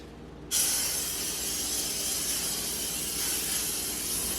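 A can of Lysol disinfectant sprays onto a kitchen counter with a single sudden, steady hiss that starts after a brief pause and holds for several seconds.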